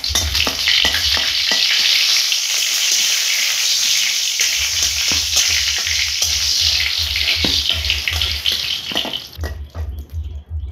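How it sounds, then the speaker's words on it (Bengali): Dried red chillies, bay leaf and whole cumin frying in hot oil, a loud, dense sizzle with repeated stirring scrapes that thins out and turns patchy toward the end. "এখন একটু লাল করে ভেজে নিব।"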